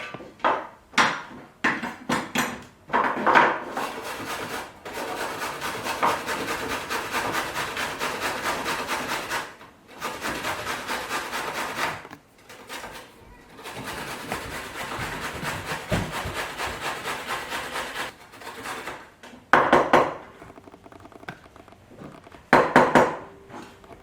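Ingredients for a Chinese pancake are rubbed against a hand grater in long, steady scraping runs broken by short pauses and a few sharp knocks. The grating is close and fairly loud, with no voices.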